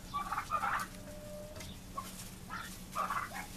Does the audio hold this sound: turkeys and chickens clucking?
yes